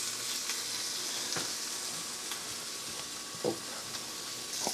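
A pancake fries in a pan beside bacon, a soft steady sizzle with occasional light clicks and taps of a utensil, no talking.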